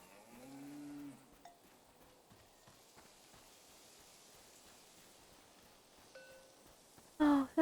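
Cows moo in the video game Seasons: A Letter to the Future, one low moo near the start and a second one later. Quiet ambient game sound fills the gap between them, and a short louder noise comes right at the end.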